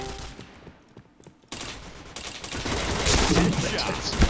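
Rapid bursts of gunfire ring out in a shooting video game, with headshots landing, starting quiet and swelling into a loud, dense barrage over the second half.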